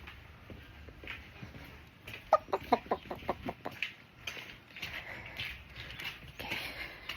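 Backyard chickens and a rooster clucking in a coop, a quick run of sharp, close clucks in the middle over soft background clucking and rustling, with no talk.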